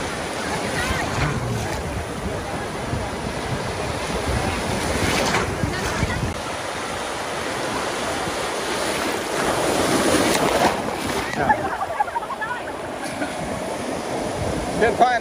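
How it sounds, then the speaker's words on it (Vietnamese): Large sea waves crash and wash onto the beach at Cồn Đen, Thái Bình, a loud continuous roar of surf with heavy wind noise buffeting the microphone throughout. "Ui giời, sóng đánh kinh."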